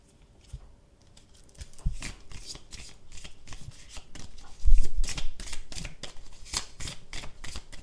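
An oracle card deck is shuffled by hand close up, a steady papery riffling and rubbing that builds in loudness with a couple of firmer thumps partway through, no voice over it.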